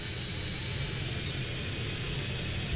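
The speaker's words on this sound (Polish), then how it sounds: "Nie tak łatwo się lata hydrą." Hydra jump jet from GTA San Andreas in flight, a steady, loud broadband jet roar with a thin high whine, continuous and unbroken throughout.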